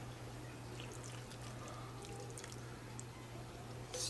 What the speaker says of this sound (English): I'm just going to pour over